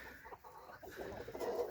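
Young roosters clucking and murmuring in a group outdoors, soft irregular calls building in density toward the end, fairly close with a light background hiss.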